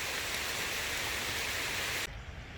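Light rain pattering steadily around a kayak on Rodman Reservoir and the Ocklawaha River near Palatka, Florida, a soft even hiss that dips abruptly near the end.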